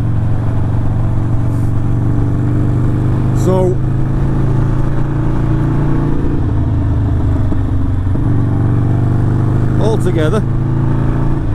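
A Harley-Davidson Sportster 48 fitted with a Two Brothers exhaust and a remap, rumbling loudly and close on the road with a few shifts in engine pitch, while a rider talks over it.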